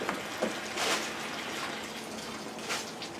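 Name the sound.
water running from tap while brewing beer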